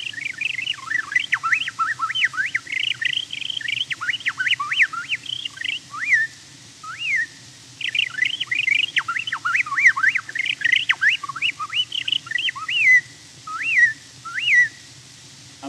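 A human whistler imitates the jerky, jingling song of a bobolink, rapid tumbling whistled phrases in bursts with short gaps, clear and close over a faint old-recording hum.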